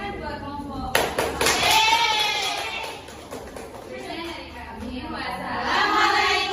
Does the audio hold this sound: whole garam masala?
no